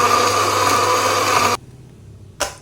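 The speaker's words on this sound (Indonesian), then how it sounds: "Bumbu kuningnya ini terlebih dahulu saya blender." An electric blender whirs loudly as it grinds turmeric and red chili into a spice paste for Batak-style carp, then stops abruptly, followed by a brief knock.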